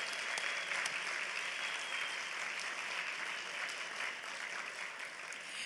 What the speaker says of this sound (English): giving them a rousing round of applause